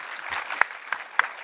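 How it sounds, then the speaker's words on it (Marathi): Sparse applause from a film festival audience honouring the film Lagaan: a handful of distinct claps scattered over a soft crowd wash, fairly faint and with no talking. "परत एकदा लगांसाठी टाळ्या"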